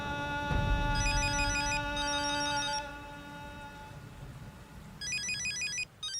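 An electronic phone ringtone chimes in repeated bursts of bright, high beeping notes over a sustained tone, with a pause and then the ring resuming, at close range under a light background hum.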